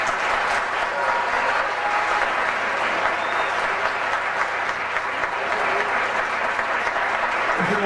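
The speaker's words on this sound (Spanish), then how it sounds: "Vamos a despedirlo con un fuerte aplauso" An audience gives sustained, even applause for percussionist Batata at a festival, a thick wash of clapping that holds steady for around eight seconds.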